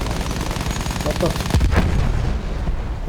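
Gunfire in the video game Battlefield 1, a few loud shots with booming low rumble amid dense battle noise, heard close and heavy throughout the short stretch.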